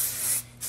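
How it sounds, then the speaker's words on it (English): Hairspray from an aerosol can misted onto curled hair, a steady close hiss lasting about half a second that breaks off briefly and then resumes, with no talking. "A little bit of hairspray."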